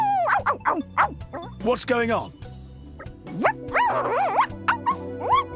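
A video-game character in Xenoblade Chronicles 2 barks and yips like a dog in Dog mode, with a string of bouncy, whimpering bow-wows close up, mixed with short spoken lines.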